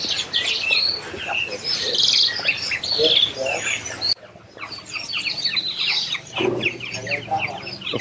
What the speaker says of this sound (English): All the lorikeets are alarm calling because obviously that one was being caught.